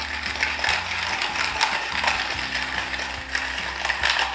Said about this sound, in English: of course we need our fresh cracked black pepper